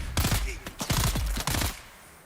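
A gun fires in Dune Awakening as several sharp, punchy shots come in quick bursts with a hard kick, close and loud, ending in a short decaying tail.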